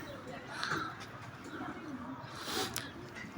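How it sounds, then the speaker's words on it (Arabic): Pigeons coo softly and repeatedly in a loft-like setting, low murmuring calls overlapping through steady background noise, with faint human speech-like sounds mixed in. "وأنا طبعا بصور كده تصوير للحمام عشان متعة المشاهدة"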